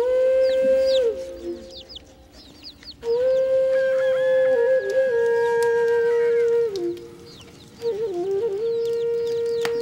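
A rooster crows at dawn in Morocco, its long drawn-out calls ringing loud and close in several bursts, with other birds chirping faintly in the background.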